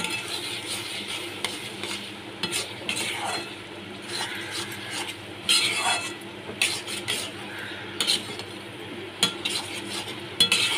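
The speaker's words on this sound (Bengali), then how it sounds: "আলুগুলো দিয়েও আমি ভালো করে কষিয়ে নিচ্ছি।" Potatoes seasoned with turmeric and Kashmiri chilli powder being stir-fried in a pan for a yellow paneer dish, heard as steady scraping and clinking of a spatula over a soft sizzle, close and continuous.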